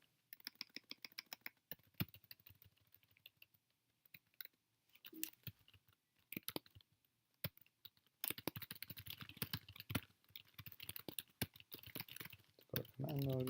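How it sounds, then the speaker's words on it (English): A computer keyboard clicks close and fairly quietly as someone types notes, with irregular bursts of keystrokes, pauses between them and denser typing toward the end. "While you do that, I'm going to type some notes."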